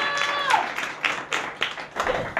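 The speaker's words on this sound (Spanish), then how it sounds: "Pueden aplaudir por él." A small audience claps for two interview guests at a cultural circle event, a brief scattered burst of separate hand claps rather than a full roar, with faint voices mixed in.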